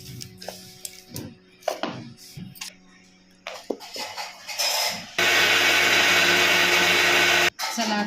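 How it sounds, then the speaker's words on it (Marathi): A mixer grinder blending a cooled fasting appe batter mixture, starting with scattered clicks and short bursts, then running loud and continuous for a couple of seconds before stopping and restarting. "तर आता हे मिश्रण आपण बारीक करून घेऊया थंड झालेलं आहे"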